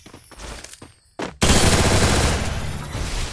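MP40 submachine gun fired in the mobile battle royale game Free Fire, a loud sustained burst of rapid shots that starts abruptly after a few short quieter bursts and keeps going steadily to the end.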